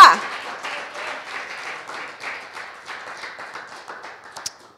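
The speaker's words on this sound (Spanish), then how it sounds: "dé un aplauso al Rey de Reyes y Señor de Señores" Scattered clapping from a church congregation during a service, a ragged patter of hands that thins out over a few seconds, with a brief voice at the start.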